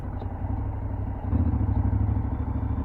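A motorcycle engine running at a steady idle, its low pulsing throb and faint mechanical clatter growing slightly louder partway through, close by with no talking.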